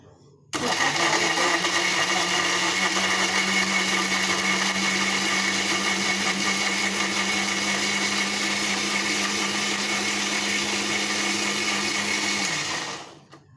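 A mixer grinder blending garlic chutney with soaked chilli water in its jar, switching on abruptly and running as a loud steady whirring whine for about twelve seconds before stopping.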